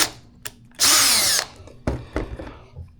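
A power drill pre-drilling a small hole in PVC for a fishing rod holder: one loud, high whirring burst of about half a second, with a few knocks and handling clatter before and after and no talking.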